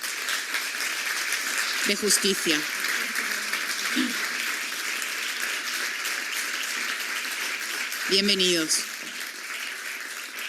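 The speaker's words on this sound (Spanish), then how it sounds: "Les damos un aplauso" Steady audience applause rolls on at a gathering honoring victims of abuse within the Church. Someone speaks briefly over the clapping twice, while the dense, moderately loud ovation continues underneath.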